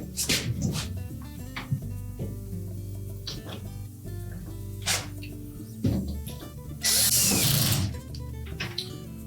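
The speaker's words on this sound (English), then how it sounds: "install the screws from the outside" Screws are driven into a dishwasher tub from the outside, with short ratcheting, clicking bursts separated by pauses and a few louder clattering handling noises.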